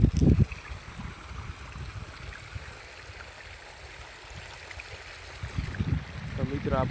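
Irrigation water running along a channel into a wheat field, a continuous rushing wash mixed with wind buffeting the microphone, with a voice speaking briefly at the start and end.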